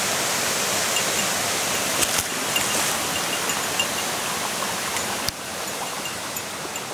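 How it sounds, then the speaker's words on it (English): Steady broadband rush of falling water, continuous and fairly loud, from a small waterfall close by along an abandoned farm road in Japan, with a couple of brief knocks. "I see a waterfall"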